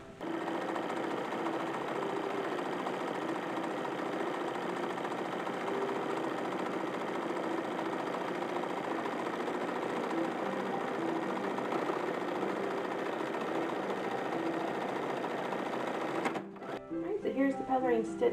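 A sewing machine stitches a bias edge on a fringed 1850s-style jacket, a steady, close, fast mechanical whir that runs unbroken for about sixteen seconds, then stops as a person begins talking.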